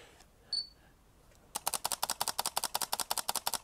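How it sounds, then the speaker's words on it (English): Panasonic GX80 camera shutter firing in burst mode, a rapid, even run of about twenty crisp clicks after a brief quiet lead-in with a faint beep, close up and alone. "Very, very quiet shutter on this."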